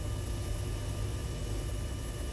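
Helicopter in flight in Arma 3, its rotor and engine making a steady, continuous drone throughout, close and even, with no talking.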